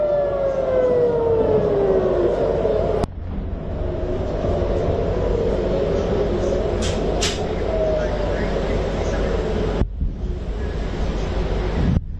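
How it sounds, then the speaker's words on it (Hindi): A wailing air raid siren in Tehran during bombing slides downward in pitch over heavy wind rumble, then lingers faintly in the distance amid gusty noise. "ये सायरन की आवाज आप लगातार सुन सकते हैं"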